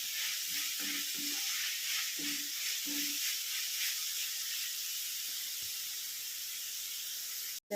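Chopped tomatoes sautéing in a pan while being mixed, a continuous close hissing sizzle with a few soft stirring clicks early on, then a sudden cutoff at the end.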